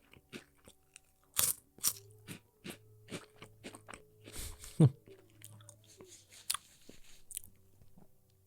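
Crisp, close crunches of seasoned yellow corn tortilla chips being bitten and chewed, with sharp irregular bursts spaced through a quiet background.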